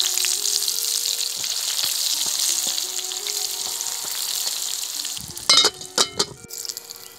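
Brinjal pieces frying in hot oil in a pan while cooking a fish and brinjal curry, a steady loud sizzle throughout, then a few sharp clatters and stirring sounds near the end, no talk.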